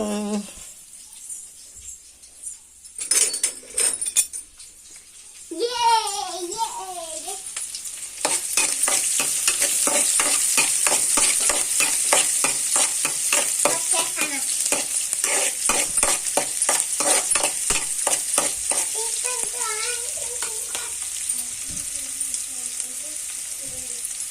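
Onions fry in a pan while a spoon stirs them, starting with quiet clatter and a brief voice, then a loud steady sizzle threaded with rapid rhythmic scraping strokes.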